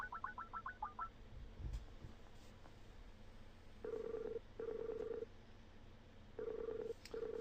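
A phone dials out with a quick run of short keypad tones, then a call rings through with repeated paired ringback tones, quiet and clear against a low hiss.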